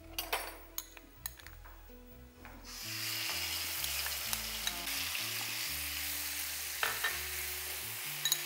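Hot oil in a pan for cooking fish gives a few metallic clinks, then breaks into a steady, loud sizzle that continues to the end over background music.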